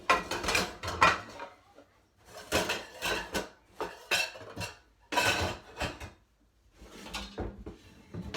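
Pots and pans clattering and banging close by as a pot is pulled out from among them in a home kitchen, with bursts of metallic clanks, knocks and a cupboard or drawer sound separated by short silences.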